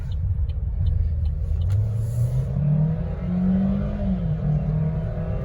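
A small 1.4-liter car engine revs up steadily, its pitch climbing as it accelerates, then settling into a steady drone, close and moderately loud.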